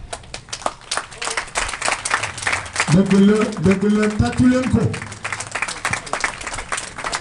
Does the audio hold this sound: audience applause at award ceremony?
yes